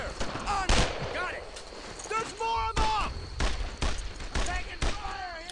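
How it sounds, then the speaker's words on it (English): Gunfire in the World War II shooter Brothers in Arms: Earned in Blood, with sharp shots cracking in bursts about once a second amid a battle, while someone talks and shouts over it. "I'm taking some fire!"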